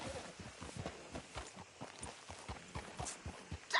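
Horse hooves clip-clop at a steady walking rhythm in a video game, close and moderately loud, with no other sounds over them.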